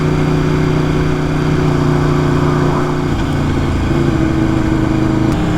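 An Aprilia RSV4 superbike idles with a steady, loud, close engine drone whose pitch shifts slightly partway through, with no voices over it.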